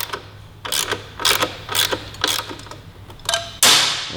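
A wrench working the nut on the rear shock bolt of a Yamaha R3 motorcycle during a K-Tech shock install: five or six rhythmic ratcheting clicks in even strokes, close and alone, ending in a louder metallic burst.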